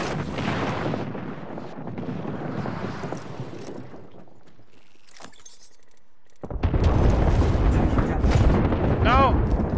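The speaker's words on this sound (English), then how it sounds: "Grenade, watch out. Grenade coming." A grenade explodes in the video game Apex Legends, its loud, broad burst suddenly swelling after a quieter stretch and rumbling on heavily to the end, with chaotic battle noise and voices beforehand.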